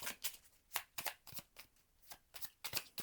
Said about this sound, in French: je vais prendre 2 dernières cartes pour vous